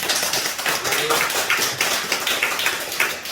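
A church congregation at a Korean dedication service claps steadily and fairly close, a continuous patter of many hands.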